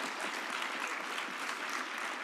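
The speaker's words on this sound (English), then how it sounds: "I think that deserves a round of applause" An audience applauds during a speech, a dense, even wash of clapping from many hands filling the whole stretch without pause.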